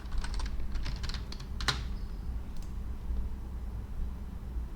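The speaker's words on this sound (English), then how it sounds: "And then type in your password." Keys on a computer keyboard tapped in a few quick clustered bursts while entering a password, close and moderately loud over a steady low background hum.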